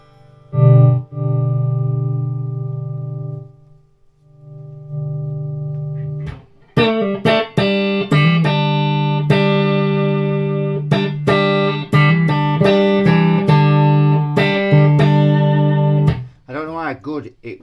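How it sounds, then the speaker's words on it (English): An electric guitar plays through a Laney AOR 312 combo amp, heard from a short distance: a held note rings and fades, then a run of distorted, punchy chords and single notes rings out with slight reverb. "I suppose we could plug the guitar into this one and see what this one sounds like"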